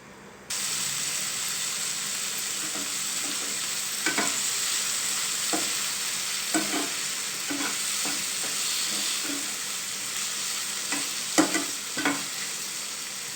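Chicken cooks in a covered pan with a continuous close sizzle, punctuated by irregular light clicks and taps from the lid and stirring.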